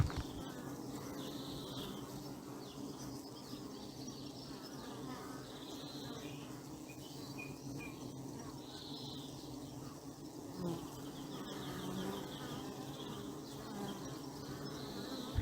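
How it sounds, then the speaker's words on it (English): Several bees buzz steadily at close range, their drones rising and fading as they move about, with a soft outdoor hum behind them. "A friend of mine, Sean, sent me a video of bees being rather dopey."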